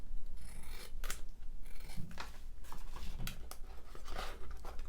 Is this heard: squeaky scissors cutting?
yes